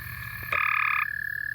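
American toads trill at night in a breeding gathering, a loud sustained high-pitched trill close by that swells in the middle then continues steadily, layered over other distant calling.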